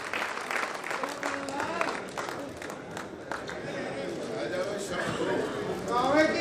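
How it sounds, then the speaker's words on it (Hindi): Audience applause at a Hindi poetry recital (kavi sammelan), steady clapping throughout with crowd noise and a voice speaking over it, swelling slightly toward the end. "एक बार तालियां बजाएं"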